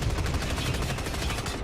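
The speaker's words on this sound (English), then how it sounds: "Rather fine use of a forge gun in Arena 1," A forge gun fires at tanks during a Dust 514 tournament match, heard as dense rapid gunfire and explosive bursts that continue without a break, loud and filling the whole short moment.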